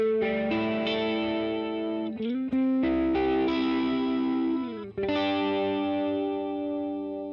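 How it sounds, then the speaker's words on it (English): Electric guitar played through the analog chorus effect of a Line 6 Pod HD 500X, sustained shimmering chords and bends with a wavering doubled tone, loud and alone, with brief breaks between strummed phrases. "is a analog chorus"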